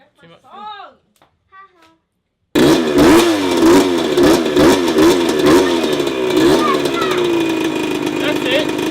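A Kawasaki KX80 Big Wheel six-speed two-stroke dirt bike starts up loud and close, then revs in repeated rising-and-falling bursts with a steady buzzing idle between, after a few seconds of a voice speaking alone.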